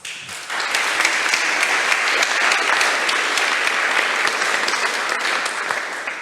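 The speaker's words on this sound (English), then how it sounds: "Big round of applause" A crowd at a startup demo day breaks into sustained applause after the pitchers are introduced, loud and even throughout, with a faint voice at the start.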